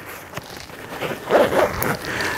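A zipper on a gaming backpack is pulled open in one quick ripping run, close and clear, with a faint rustle of fabric before it and no talk.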